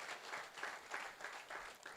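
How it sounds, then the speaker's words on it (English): An audience claps after a talk at a speaker event, a faint, steady patter of many hands with slight rhythmic swells throughout. "it's okay to give one more round of applause"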